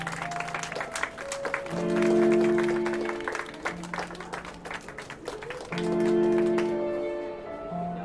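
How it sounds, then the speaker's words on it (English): A round of applause for award nominees fills a formal gathering, with steady clapping swelling in two long waves over tonal musical tones and easing near the end. "Let's give this term's nominees a round of applause."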